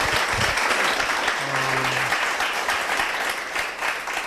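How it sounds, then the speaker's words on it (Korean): Applause from a church congregation, a dense burst of clapping filling the whole few seconds, with a brief low tone and faint murmurs underneath. "박수"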